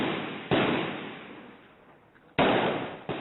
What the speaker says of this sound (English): the streets still ringing with gunfire